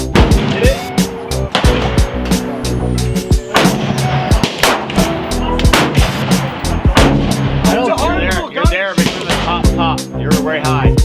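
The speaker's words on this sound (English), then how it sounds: "This is a brand new gun, dude." Handgun shots fired at a shooting range, a series of loud, sharp reports spaced irregularly, with people talking between them.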